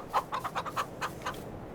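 Chickens cluck in a quick, uneven run of short calls, about eight in under two seconds, faint and a little distant against quiet background noise.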